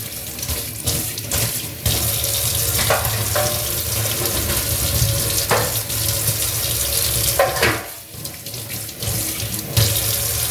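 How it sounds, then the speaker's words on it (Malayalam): Tap water runs into a kitchen sink to rinse it after cleaning with Harpic. The flow is loud, close and steady, splashing continuously against the basin with a few brief dips. "ഇനി ജസ്റ്റ് ഒന്ന് വെള്ളം ഒഴിച്ച് കൊടുക്കുക നല്ല ക്ലീൻ ആവും"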